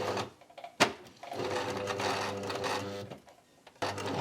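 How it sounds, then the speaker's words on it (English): A sewing machine runs a line of stitching along the frayed edge of a piece of fabric, a steady close mechanical whirr of about two and a half seconds, bracketed by short clicks and pauses. "I just want to put another lot of stitching on the edge of it"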